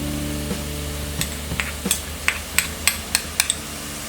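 Onions and garlic frying in a pan for homemade pizza sauce, with a low steady sizzle under a run of sharp metallic taps and scrapes from stirring, about ten quick clinks in the second half.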